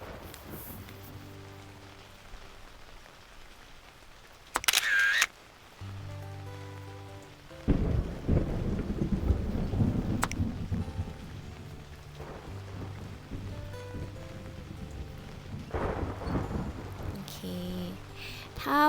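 Rain and thunder weather effect from The Sims FreePlay, a steady patter of rain with a low rumble building and swelling midway, alone without voices, plus a few brief chime-like game sounds.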